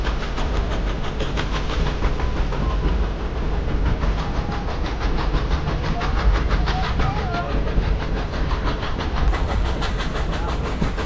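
Steady rumble and rhythmic clickety-clack from inside a passenger car pulled by steam engine 3716 on a surviving stretch of track, continuous and fairly loud throughout with no clear whistle.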